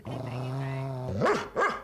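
A dog gives a close, sustained low growl that breaks into two sharp, loud barks, with no talking during the sounds.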